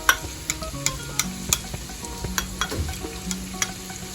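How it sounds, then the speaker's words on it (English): Diced onions fry in oil and butter with a constant soft sizzle, broken by regular scraping and clicking from a utensil stirring the pan, close up and with no talk. "now we are going to add our diced onions in the oil, in the butter"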